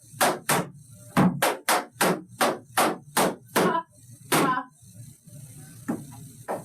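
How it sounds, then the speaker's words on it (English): Tap shoes strike a floor in a quick run of about ten sharp, loud stamps and heel hits during a tap dance lesson, then a pause and a couple of lighter taps and scuffs, with no voice over them. "Stamp with your heel. Stamp. Okay, scuff with the right."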